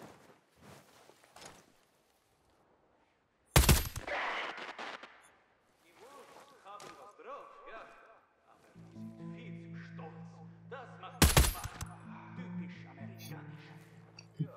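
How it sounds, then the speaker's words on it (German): Bursts of gunfire in a tactical shooter video game, with two loud volleys of shots standing out. Softer game effects and music fill the gaps, and a voice talks intermittently between the shots. "Schüsse."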